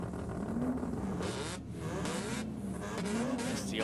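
Drag racing cars, a Datsun and a Mazda RX-2, launching down the strip with a loud, sustained engine roar and rising revs that hold steady throughout.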